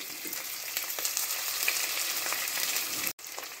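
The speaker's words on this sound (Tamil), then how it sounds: "நல்லா வெங்காயத்தை வதக்கிக்கிங்க" Small onions with fenugreek, mustard seeds and salt sauté in a hot pan, giving a steady, close, dense sizzle that holds evenly throughout, with a brief dropout near the end.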